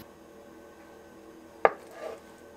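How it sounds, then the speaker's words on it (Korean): A kitchen knife cuts tofu into squares for cheonggukjang stew. There is a single sharp tap of the blade on the board, then a softer scrape, close and quiet over faint room tone. "청국장 끓일 때는 꼭 두부를 네모나게 잘라 넣습니다"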